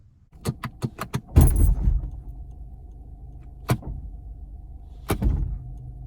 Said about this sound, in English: how the transmission is banging when you shift into drive or reverse